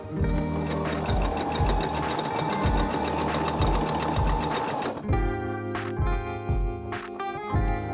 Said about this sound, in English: I have this fixed feature on my machine that stitches over a couple times to secure the thread